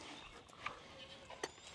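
A goat with a yellow ear tag being herded on a farm gives a couple of faint, brief bleats, one near the middle and one toward the end, over quiet outdoor background.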